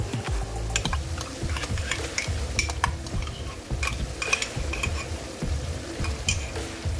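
A spoon scrapes and knocks against a pot while yogurt is stirred into sizzling keema mince, with irregular clinks and scraping strokes over a low frying hiss.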